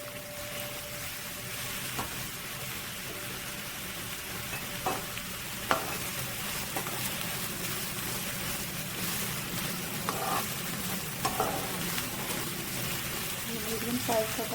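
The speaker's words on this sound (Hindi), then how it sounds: "तो अब तेल हमारा गर्म हो गया है। अब हम इसके अंदर डालेंगे अपने प्याज जो हमने चॉप किए हुए थे" Finely chopped onions, a medium-sized one, frying in hot oil in a pan for shakshuka, giving a steady close sizzle throughout with occasional stirring clinks and small pops.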